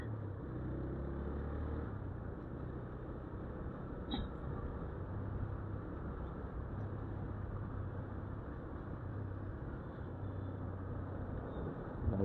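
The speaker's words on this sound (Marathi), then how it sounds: "कधी भारी आवाज येत आपल्या गाडीवरनं" Steady engine drone and road rumble from a motorbike being ridden on a Pune road near the Z bridge, continuous and fairly loud throughout with no talking.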